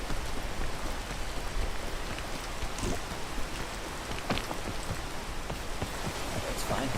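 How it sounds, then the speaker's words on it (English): Steady rain hisses throughout in the video game Peak, a dense, even wash of falling water with a few brief louder splashes and no clear speech. "I shouldn't be doing this when it's raining"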